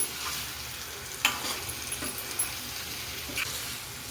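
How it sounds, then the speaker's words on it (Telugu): Small fish stirred into a masala curry in a pan give a soft, steady sizzle, with a few light scraping clinks from the spoon. It is close, fairly quiet, and there is no talk. "ఇప్పుడైతే చేపలు కూడా వేస్తానండి ఇది ఒక్కసారి తిప్పి"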